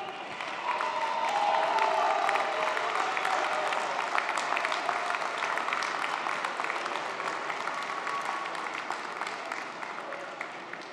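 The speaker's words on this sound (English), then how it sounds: "give them a round of applause for all they've done to support you" Large audience applauding at a college commencement ceremony in an auditorium, dense steady clapping with some cheering, sustained and fairly distant for the whole stretch.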